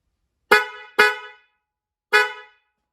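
Three loud, close honks from an upgraded Honda CR-V horn, two quick blasts followed by a third after a pause, each sharp and brassy with a short tail and silence between.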